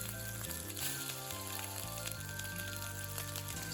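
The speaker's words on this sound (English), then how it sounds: "To my hot wok, I'm adding in plenty of oil. Now add in the shrimp and let it cook." Shrimp frying in plenty of oil in a hot wok, a steady soft sizzle sitting beneath louder background music throughout.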